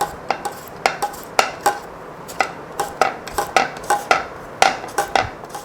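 Potatoes being sliced thin with a very sharp blade for homemade chips, a steady series of crisp knife clicks against a board, close and regular, with no talking.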